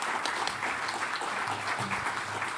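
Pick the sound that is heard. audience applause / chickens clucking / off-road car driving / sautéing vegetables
audience applause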